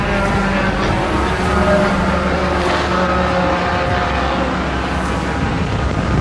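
Race cars on a racing track roar past through a turn at a motorsport event, a dense, continuous engine drone that stays loud and steady throughout.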